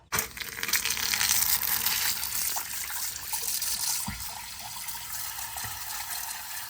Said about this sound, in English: put water and submerge the pump.